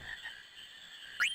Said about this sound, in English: See, you caught a frog.